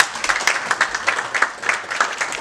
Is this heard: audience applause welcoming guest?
yes